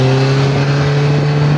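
Diesel engine of a Russian piling machine raised to higher revs, a steady close, loud drone with strong low harmonics and no break.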